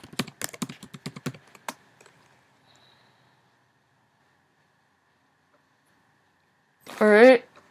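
Rapid keystrokes on a computer keyboard as a password is typed during a CrunchBang Linux installation, a quick run of close clicks lasting about two seconds, followed by silence and then a short loud tonal sound.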